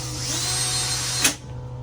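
A power drill whirs steadily up close as factory screws are driven into a swivel seat base in a Dodge Promaster van, then the motor stops with a short release and falls quiet.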